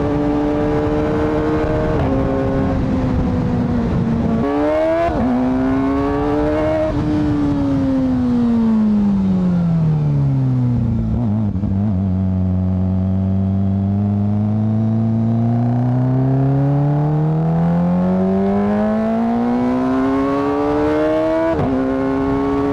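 A Kawasaki ZX4RR sport bike's small high-revving engine climbs and falls through the rev range in sweeping pitch glides, loud and close, kept at high RPM in a low gear with no talk over it.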